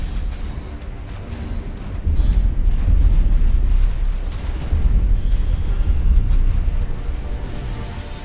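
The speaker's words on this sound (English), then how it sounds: "the beam on this thing is just ridiculously powerful" A powerful main cannon beam firing from a ship in a space video game, a dense, sustained low rumble that swells louder after a couple of seconds and roars on continuously without talk.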